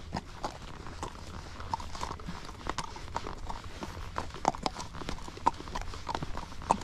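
A spotted saddle pony on a trail ride at dusk walks with steady, moderately close hoof clip-clops in an even rhythm, set against a quiet outdoor background.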